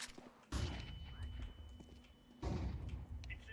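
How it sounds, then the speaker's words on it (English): A flashbang grenade detonating in a video game lands as two loud, close bursts of blast noise a couple of seconds apart, trailed by a steady ringing tone and low rumble. "Deploying flashbang."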